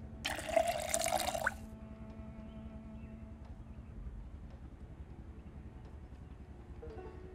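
Water poured from a rain collector barrel in Project Zomboid, a brief bright splashing burst lasting about a second, followed by quiet low background hum.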